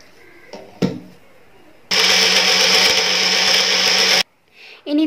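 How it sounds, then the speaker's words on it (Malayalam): An electric kitchen blender whirs steadily for about two seconds while blending a mixture with cold milk, loud and close, with small clicks and knocks before and after. "പാലൊഴിച്ചിട്ട് ഇതെല്ലാം കൂടെ ഒന്നുകൂടി ഒന്ന് ബ്ലെൻഡ് ചെയ്ത് എടുക്കാം."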